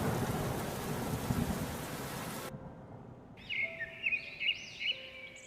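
Heavy rain pours over village farmland after strong wind, with a dense, loud roar of water that cuts off abruptly. A quieter stretch follows with faint rumbles and a few high calls.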